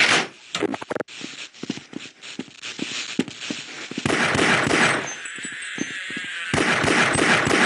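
Shotgun fire from Half-Life: Blue Shift, several sharp blasts in quick succession with clanking impacts and harsh game noise, loud and dense through the whole stretch.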